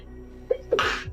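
One close, sudden sneeze, a short intake of breath followed by a sharp, breathy burst.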